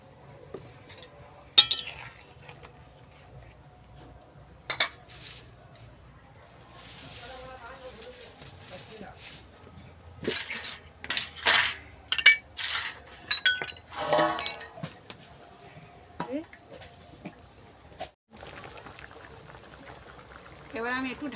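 Fried potatoes are added to a Bengali fish curry in a pan: scattered clinks of utensil on pan, then a busy stretch of sizzling and stirring, with quiet pauses between.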